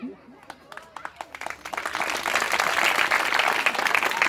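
Audience clapping at a village-level general knowledge quiz event in Kamala municipality, Nepal: scattered individual claps grow into dense, sustained applause, with voices mixed in.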